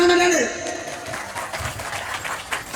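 An outdoor crowd applauds at a night market comedy show's closing event, a loose scatter of clapping that follows a brief spoken or sung phrase, with voices mixed in.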